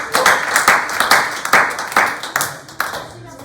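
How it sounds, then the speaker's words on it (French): A small audience of hospitality students claps after a classmate's presentation in a classroom, giving a brisk burst of close, uneven hand claps that thins and fades toward the end. "bravo, on peut applaudir."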